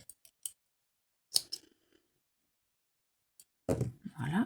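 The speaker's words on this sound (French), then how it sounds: "je vais couper mon fil" Scissors snip crochet yarn with several quick, close, crisp cuts separated by quiet pauses, followed by a little soft handling noise.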